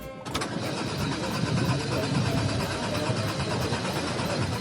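A prototype vehicle's engine cranks and catches, then settles into a steady mid-pitched running hum, with voices talking nearby.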